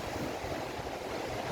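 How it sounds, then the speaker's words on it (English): Strong wind gusts with light rain on an exposed cliff at night, a constant, loud roaring rush buffeting the microphone. "very windy night so far, a bit of rain"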